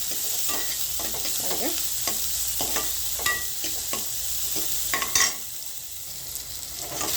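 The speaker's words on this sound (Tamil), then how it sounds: "இந்த வெங்காயம் வதங்கிக்கிட்டு பாருங்கள்" Onions sauté in a hot pan, giving a constant close sizzle broken by repeated scraping and stirring strokes of a spatula, with no talking.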